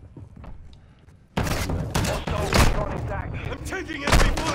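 Gunfire in a shooter video game erupts suddenly after a quiet stretch: loud, close, booming shots and impacts in irregular bursts, with voices talking underneath.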